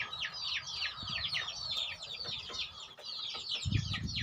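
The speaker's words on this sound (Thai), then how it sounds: "ตัวนี้เป็นไก่รุ่น อันนี้สิเป็นไก่รุ่น" Young backyard chickens in a coop cluck and chatter continuously in a dense, overlapping chorus. The sound is moderately close and steady throughout, with a brief low thump near the end.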